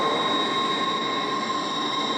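A train in SCR pulls into Stepford Central station with a continuous loud rumble and high steady wheel whine, holding even for the whole moment with no voices.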